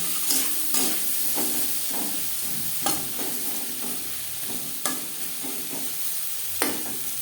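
Flat beans and eggplant fry in a pan with salt and turmeric, no garlic or onion, giving a continuous sizzle punctuated every second or so by clattering stirs and scrapes.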